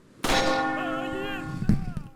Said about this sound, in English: there's like a church bell up there